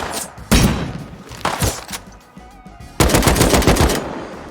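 Gunfire in the survival video game Rust, with loud bursts of rapid shots in several separate volleys, the last one longest, and short gaps between them.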